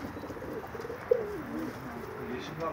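A Karabaş pigeon coos faintly in low murmuring calls, with one sharper brief note partway through, over quiet background noise.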